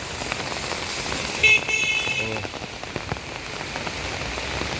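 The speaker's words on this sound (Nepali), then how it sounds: "पानी परेर वेदर त शीतल शीतल भएको छ।" Rain patters steadily on surfaces outdoors, a dense even hiss throughout, with a short vehicle horn toot breaking through midway.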